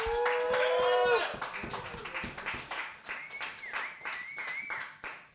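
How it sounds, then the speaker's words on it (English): An audience at a live show claps in a quick, uneven patter of individual hand claps, moderately close and fairly soft, while a voice talks at the start and a whistle-like tone sounds over it. "Don't clap for me."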